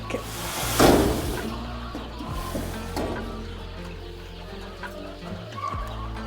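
BV380 laying hens kept on a home terrace farm cluck and call nearby, with one louder squawk early on, then softer scattered clucks over a low background hum.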